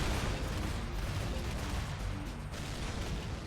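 A rapid, dense barrage of video game cannon shots booming almost continuously, loud and close, with no pauses and no voices.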